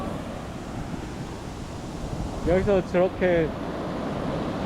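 Strong waves break and wash steadily along a Phuket beach, a continuous roar of surf with wind, while a voice speaks briefly in the middle.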